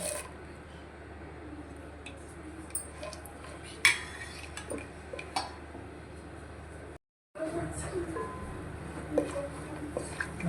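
Cashews and chopped almonds fry in hot ghee in a pan for sheer khurma, with a low steady sizzle under clinks and scrapes of a spoon stirring against the metal. A brief silent gap breaks it midway.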